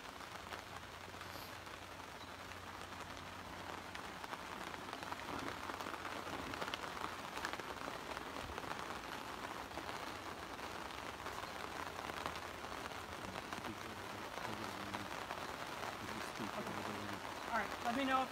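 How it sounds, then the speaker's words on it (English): Steady rain patters continuously on a surface outdoors at a dog show, a dense even hiss of drops with no letup, fairly quiet and diffuse. "Let me know if you can hear me because we have some rain going on at the moment."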